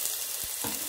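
Garlic dropped into hot oil in a pan on the stove for a Kerala-style mutton curry, giving a steady close hiss of frying with a couple of soft low thumps, no talking.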